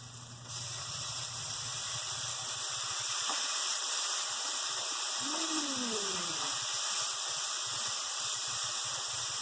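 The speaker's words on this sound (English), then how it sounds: "And then I'm going to add a little balsamic vinegar to the pan, about a tablespoon." A tablespoon of balsamic vinegar hits a hot pan of golden-browned shallots, setting off a sudden loud, steady hiss and sizzle that carries on evenly for several seconds.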